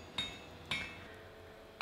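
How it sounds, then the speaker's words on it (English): Three sharp, ringing hammer blows on hot steel at the anvil, spaced unevenly and close by, while the eye of a Viking-style shipwright's axe is spun and rounded on a drift; no voices. "just spin it under the hammer to make it round"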